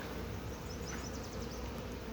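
Honey bees buzz around outer beehive frames during spring hive work, a faint steady hum with no talk.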